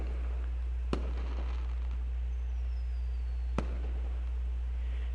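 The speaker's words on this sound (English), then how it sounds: "I watched the night sky illuminated by colorful explosions of the fireworks" Fireworks exploding in the night sky in the dragon visual novel game Angels With Scaly Wings: two sharp, isolated bursts a few seconds apart over a steady low background hum.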